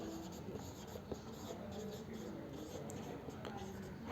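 Hand writing of the factors of 25 on paper or board in a primary maths lesson, a faint scratchy pen stroke sound running throughout, quiet and close, with soft low speech behind it.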